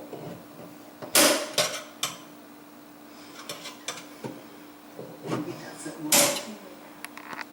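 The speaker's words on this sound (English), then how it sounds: "we're going to take a slotted screwdriver and we're going to pry off this retaining ring" A slotted screwdriver pries at the metal retaining ring of a Badger 5 garbage disposal, making scattered close metallic clicks and scrapes with two louder clanks amid quiet handling.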